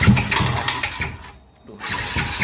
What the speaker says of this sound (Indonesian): Mesin Vixion 360 cc.